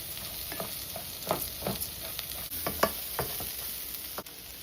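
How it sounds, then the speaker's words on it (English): Rice sizzles and crackles as it browns in a rice cooker pot for Mexican-style rice, with steady frying hiss punctuated by scattered stirring scrapes and pops, close and moderately loud, no talking. "You can hear how it's already starting to brown. You can hear it sizzling"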